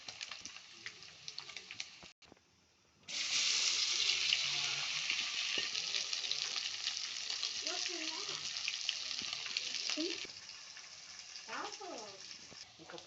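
Chicken 65 pieces fry in hot oil, giving a steady close sizzle that swells loudly after a brief pause and then eases, while a few soft voice-like sounds surface faintly under the crackle.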